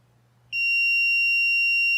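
After a brief hum of quiet, a single high-pitched electronic beep from a multimeter continuity test starts abruptly and holds as a steady, loud continuous tone.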